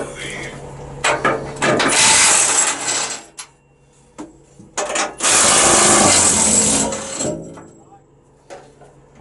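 A ratchet or impact tool removes cab bolts on a 1996 Peterbilt truck, with two loud extended bursts of rapid mechanical clatter separated by short clicks and pauses, close up, with a voice in the background.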